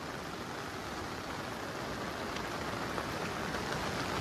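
Heavy cyclone rain pours down in a dense, unbroken roar of hissing water, loud and steady with no pauses.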